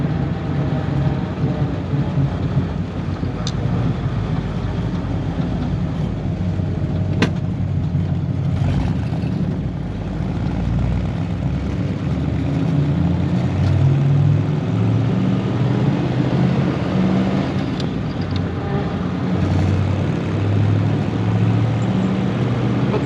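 A 1938 Ford Deluxe Sedan with a flathead V8 drives along, its engine a steady loud low drone heard from inside the cabin with road rumble and occasional rattles, no one speaking.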